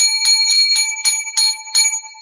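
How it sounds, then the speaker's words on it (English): Seven bright metallic bell rings, including a hotel bell, struck in quick even succession, clear, close and ringing alone without talk. "Now, seven lucky bells to chase away the evil spirits."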